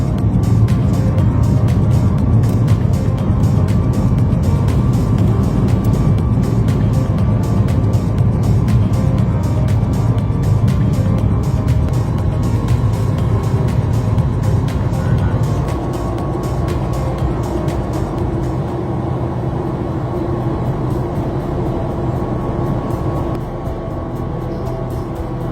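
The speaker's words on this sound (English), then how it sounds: "Takeoff was smooth and pretty quiet." Alaska Airlines passenger jet cabin during takeoff, a loud constant engine roar and rumble that eases slightly partway through as the plane climbs, with no talking.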